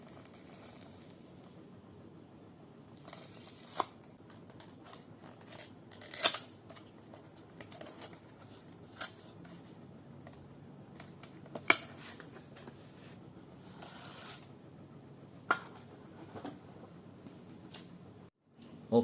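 Quiet handling of Honor Magic Pencil 4s stylus packaging during an unboxing, with soft rustling, scraping and a few sharp clicks and snaps scattered through, close by, with no talking.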